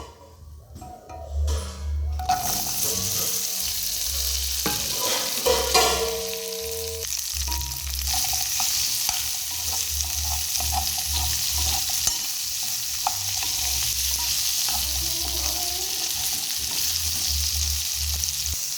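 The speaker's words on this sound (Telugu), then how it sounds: "సేమ్ అదే ప్యాన్లో కొంచెం ఆయిల్ అయితే వేసుకొని మనం ఇప్పుడు బెండకాయలు అయితే ఫ్రై" Okra frying in a little oil in a pan, a steady loud sizzle that runs throughout, with clinks and scrapes of a spatula stirring now and then early on.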